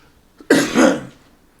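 A single close, loud cough: one sharp, throaty burst that fades quickly, heard on its own with no speech.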